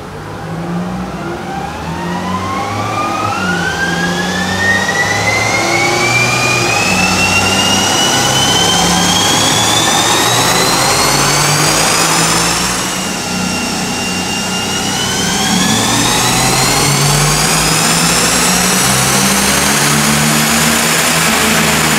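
A Toyota Caldina engine, untuned and making about 205 horsepower, revs hard on a dyno in two long rising sweeps, a loud roaring drone whose pitch climbs steadily, dips briefly, then climbs again.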